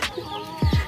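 Chickens give two quick, close clucks toward the end, after a short bird call, against quiet outdoor background.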